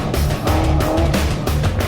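Car engine roaring under hard acceleration on a pole-lined driving course, loud and close, with steady continuous drive and faint tire noise.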